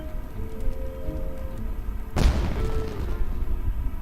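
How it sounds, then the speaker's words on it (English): A fireworks explosion in the video game Genshin Impact: one sudden loud boom cuts through a steady game background hum partway through, then a rumbling tail fades out. "It sounded like fireworks."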